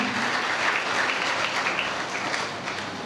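A church congregation at Mount Carmel Church, Kakkon, breaks into hearty, sustained clapping in welcome, a dense wash of applause filling the room with no voices over it.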